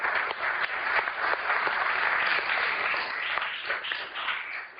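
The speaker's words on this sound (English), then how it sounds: "let me just ask you to give a warm round of applause to our panelists." A conference audience at a session on artificial intelligence and good governance gives a warm round of applause for the panelists, a dense, sustained clapping of many hands filling the room, fairly even from start to finish.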